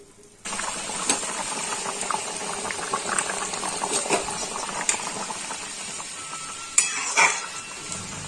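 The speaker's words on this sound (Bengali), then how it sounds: "ঝোল ফুটে গেছে, আর আলুগুলো তো সেদ্ধই" A pot of spinach dhoka gravy with potatoes and asafoetida bubbles at a steady boil, giving a close, continuous burbling with scattered pops and a couple of louder utensil clinks near the end.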